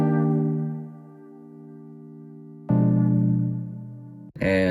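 Sustained analog synth keyboard chords ring out, one held tone fading, then a brighter layered chord enters, followed by a brief burst at the end.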